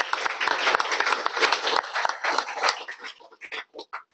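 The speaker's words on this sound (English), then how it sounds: "Round of applause for those guys." An audience at a WordPress campus conference breaks into dense applause that thins out into a few scattered last claps.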